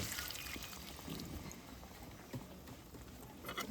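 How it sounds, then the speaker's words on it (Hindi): Water is poured into a pot of village-style mutton curry cooking over a fire, a faint, steady splashing and gurgling heard close up with no talking. "और कनि आब पानी पड़तै, ठीक छै"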